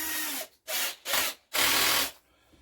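A drill bit grinds out rivets from stationary engine tinwork on a Villiers Mk12, four close bursts of loud harsh drilling separated by short pauses.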